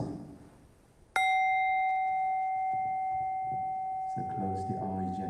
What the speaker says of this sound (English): So I will ring the bell